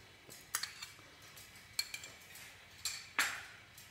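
Egg, oil and vanilla mixed into strawberry tart dough ingredients in a bowl, with several sharp utensil clinks and scrapes against the bowl over a quiet background.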